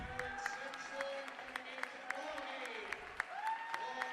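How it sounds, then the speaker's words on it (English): Crowd cheering at a Bradford Dragons versus Manchester Magic NBL1 basketball game, a steady roar of voices with scattered claps and shoe squeaks, moderately loud and sustained throughout, with voices mixed in. "the cheer that you can hear now is for Cameron Simpson."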